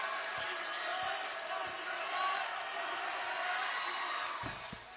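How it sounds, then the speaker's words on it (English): Coyote fans at a women's NCAA basketball tournament game applaud a player, a broad roar of clapping and crowd noise with scattered ball bounces, while a commentator talks over it. "Shervin gets a rousing round of applause from the Coyote faithful"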